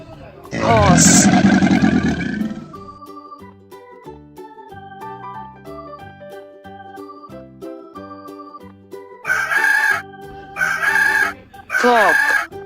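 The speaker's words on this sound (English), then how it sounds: "Cock." Rooster crowing in a farm-animal sound game: a loud, drawn-out cock-a-doodle-doo rings out alone at the start, followed by soft plucked music, then three short loud calls near the end.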